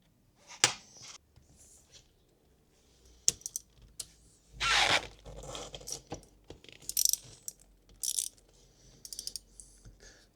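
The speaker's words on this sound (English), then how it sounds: "we're gonna use the 17mm socket to remove it." A 17mm socket ratchet works on the oil strainer cap of a Honda Forza scooter: close, crisp clicking bursts and metallic clinks in irregular spurts, with quiet gaps between.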